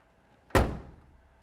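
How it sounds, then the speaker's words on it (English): A single solid thunk of the passenger side door on a 1966 Ford Mustang closing, a short heavy impact that rings briefly and dies away in a quiet setting. "when you open up the passenger side door of the vehicle"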